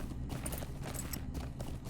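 Rhythmic clip-clop of a horse's hooves trotting in the Lord of the Rings Online video game, an even repeating beat over a dense, steady game soundscape.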